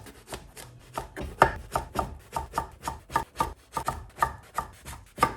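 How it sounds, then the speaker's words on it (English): A knife thinly slices one aubergine on a board for crispy aubergine, giving a steady run of about twenty crisp, evenly spaced chops, close and moderately loud, with no voices. "So I am just going to thinly slice these, or this one aubergine."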